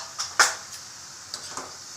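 A spoon stirring spices in a metal cooking pot, a few light clinks and scrapes, close and sparse, with short gaps of near silence between the knocks.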